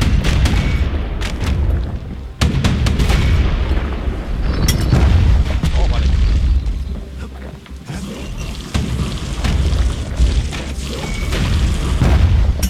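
Fire grenade blasts in the action game Bastion, heavy low booms recurring amid dense game noise and a rumbling score, loud and close throughout with no talk.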